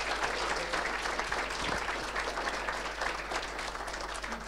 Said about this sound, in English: could give the staff here a little bit of a round of applause for looking after us